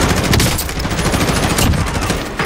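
A light machine gun fires in the video game Warzone, with rapid, dense bursts of loud gunfire running continuously for the whole stretch.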